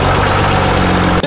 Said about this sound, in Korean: 자, 시동을 걸어볼게요.